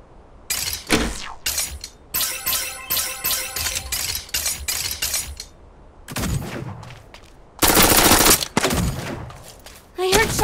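Rapid automatic bursts and single sharp shots ring out in the mech battle royale game Super Mecha Champions, loud and close, with a dense extended volley near the end and a brief voice between.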